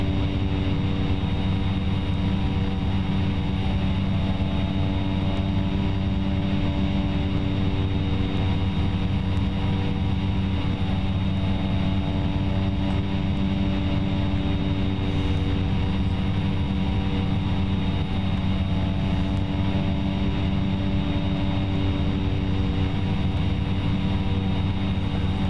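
A Cessna Caravan single-engine propeller aircraft in a flight simulator video game drones loudly and evenly throughout, a constant close engine hum with no talking.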